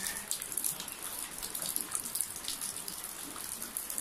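Water pouring down like a shower on Tung Lung Chau island in Hong Kong, a steady close splashing hiss with constant spattering, loud and continuous with no talk.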